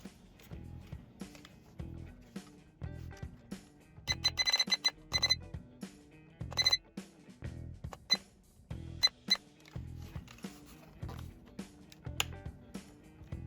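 A DS-3618L mirror alarm clock sounds its alarm signal, a series of rapid electronic beep bursts in repeated groups over a low rhythmic background, fairly close and moderately loud.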